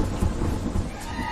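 Rain falling outdoors in Paris, a steady loud wash of drops with low rumbling gusts that holds throughout, with no voices.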